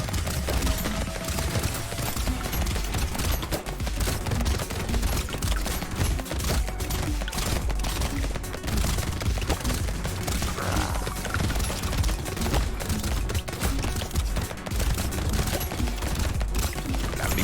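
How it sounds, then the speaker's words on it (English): Dense rapid gunfire from the video game Brotato rattles nonstop at a loud, even level, layered with busy arcade-style game effects and no talking. "Please don't shoot giant bullets at me"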